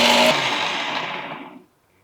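A kitchen mixer grinds coconut pieces with soaked fenugreek, a loud, close whirring burst lasting under two seconds before it cuts off into silence.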